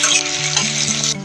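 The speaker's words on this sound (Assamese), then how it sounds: "পিঁয়াজখিনি ভাজি লওঁ আগতে ধুনীয়াকৈ" Onions fry loudly in duck fat in a pan while being stirred, a close, bright sizzle with scraping spoon strokes against the metal, no voices.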